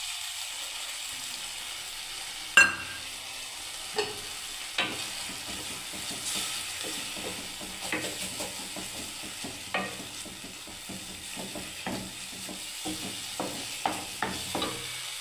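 Cashew paste sizzles and fries in a pan while being stirred, a soft continuous hiss broken by scattered scraping and tapping from the spoon, quiet and close.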